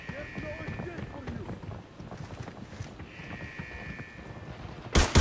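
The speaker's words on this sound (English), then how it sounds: "I heard footsteps, bro." Rapid, rhythmic footsteps thud in the tactical shooter Arena Breakout, moderately loud and continuous, mixed with game ambience and occasional voices, ending in a louder burst.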